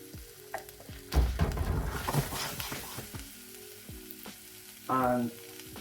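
Mincemeat mix, onions and garlic fry in a pan with a loud sizzle that flares and fades, punctuated by scraping stirs and a short bubbling burst near the end.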